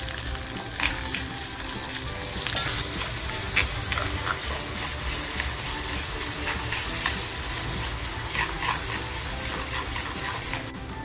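Chopped onion fries in plenty of hot oil in a heated biryani kadhai, giving a steady, close, continuous sizzle with faint scraping of stirring throughout and no talking.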